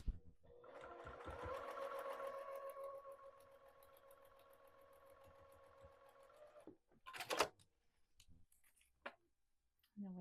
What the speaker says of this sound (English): I sewed the edge down.